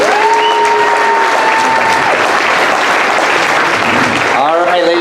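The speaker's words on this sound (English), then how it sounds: "Big round of applause." Loud, sustained audience applause fills an awards ceremony hall, with a voice speaking briefly over the clapping near the start and again at the end.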